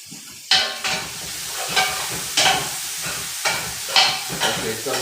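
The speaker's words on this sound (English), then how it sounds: "Okay, so I'm gonna give this a stir." Rice stick noodles stir-fried in a hot pan make a steady loud sizzle, broken by repeated scraping stirs every second or so.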